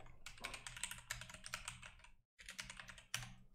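An email address typed on a computer keyboard, a close, quiet burst of quick key clicks with one brief pause before the typing resumes.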